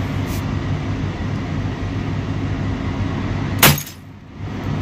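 A Merah Delima glass, hit by a shot at close range, breaks with one sharp, loud crack and burst against a steady rumbling background, after which the noise drops away briefly.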